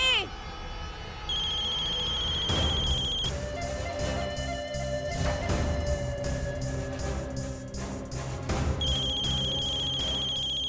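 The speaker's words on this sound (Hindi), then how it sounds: "ये तो नैना दीदी के फोन की आवाज" A phone rings with a high electronic trill, starting and stopping, over busy background music and clatter.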